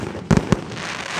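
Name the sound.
fireworks exploding on Canada Day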